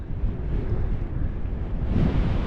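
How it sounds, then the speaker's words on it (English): Gusty wind buffets an exposed hilltop wild camp at Carter Pike, a continuous low, rumbling roar with no voices, swelling slightly toward the end. "Bit breezy up here"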